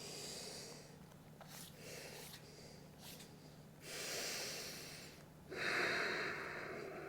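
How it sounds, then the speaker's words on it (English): Ujjayi breathing during a strength and balance yoga session, slow audible breaths drawn through a constricted throat, a soft rushing hiss swelling in long waves, close and alone with no talk. "Breathing, coming back to your ujjayi."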